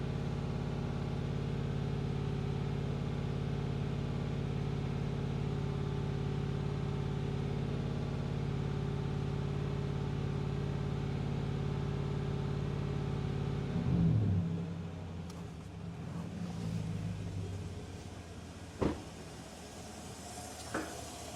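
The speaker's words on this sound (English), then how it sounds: "Just revving it up a little bit." A 2015 Chevrolet Silverado 5.3L V8 runs steadily, then revs up briefly and settles back toward idle, with a few clunks nearby and no talking.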